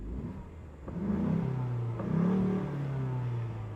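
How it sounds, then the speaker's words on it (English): A 2024 Ford Bronco Everglades engine revs a couple of times, rising and falling in two moderate swells over a steady low idle rumble, with no talking. "We'll give it a couple revs here."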